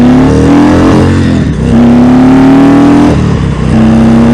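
A 2019 Indian Springfield Dark Horse motorcycle engine revs loud and close, a throaty rising roar that drops briefly twice between revs as it rides off.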